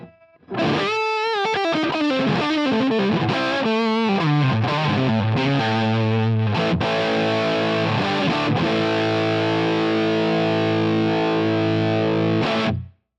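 A distorted electric guitar with neck and middle pickups selected plays a quick run of notes, then settles into sustained chords that ring out steadily until they stop abruptly.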